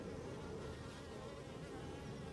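Honey bees buzz steadily in a hive, a dense continuous drone of many insects close by, with no talking.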